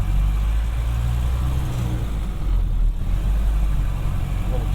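A 1931 Ford Model A Coupe drives through a small town on a fall day, its engine a steady, close, low drone that continues without a break.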